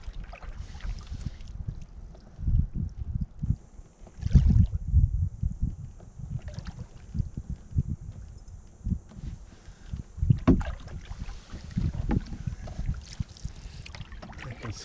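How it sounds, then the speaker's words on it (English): A canoe is paddled across a loch in the dark, with rhythmic low splashes and knocks of the paddle repeating steadily. Wind buffets the microphone throughout, and no voices are heard. "Paddling in the dark, not to be recommended."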